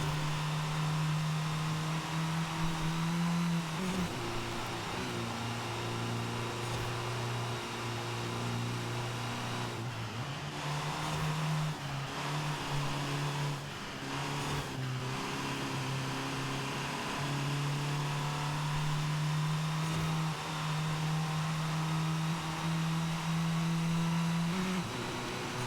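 The Abarth 695 Biposto engine in Forza Horizon 5 hums steadily at high revs, shifting pitch between gears with brief dips, continuous and close with no talking.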